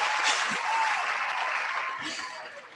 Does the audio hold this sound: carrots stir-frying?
no